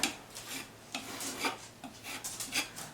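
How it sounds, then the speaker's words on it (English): Hand sanding over filled anchor holes on a wall surface before painting, producing close raspy scratching strokes in an irregular rhythm, moderately loud with no speech. "I'll sand them again and then I'll be ready to paint"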